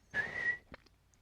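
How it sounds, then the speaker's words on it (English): A person gives one short, clear whistle of about half a second at moderate volume, followed by a couple of faint clicks and quiet. "I must whistle, and I did, and it cured me entirely."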